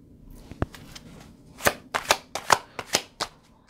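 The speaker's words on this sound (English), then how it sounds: "I'm going to pull a card on this." Tarot cards are shuffled in a run of sharp riffling bursts, sparse at first and then coming quickly one after another, close and clear, with no talking.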